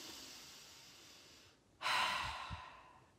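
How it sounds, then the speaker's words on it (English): A person's breathing, a soft drawn-out exhale followed after a brief pause by a louder, deep rushing breath, close and alone. "So I'm going to take 1 to 2 to 3 deep breaths."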